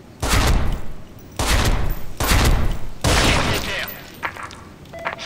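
Bursts of AUG A3 rifle fire in the shooter game Special Force 2, four loud close volleys of rapid shots with short gaps, then scattered quieter shots and game effects.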